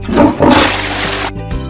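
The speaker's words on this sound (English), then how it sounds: "Can you flush the toilet?" A cartoon toilet flush in a kids' baby-care game about a newborn kitten: a brief loud rushing swirl of water that cuts off abruptly, followed by a faint tonal game effect.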